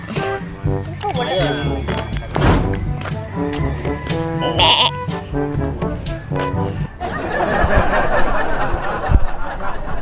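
Goat bleats ring out amid busy, layered background sound, with a rougher noisy stretch toward the end; the calls are loud and close.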